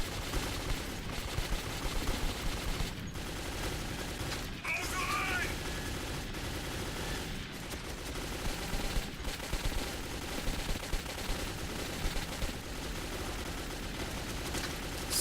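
Bursts of gunfire in the video game Metro 2033, rapid repeated shots and fusillades crackling throughout a dense, noisy firefight, with voices talking over it.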